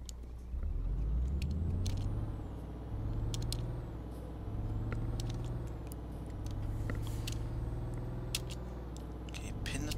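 Euro Truck Simulator 2 truck engine revving up under full throttle with the turbocharger kicking in, a deep rising drone repeating through gear changes, with clicking sounds and a person talking over it.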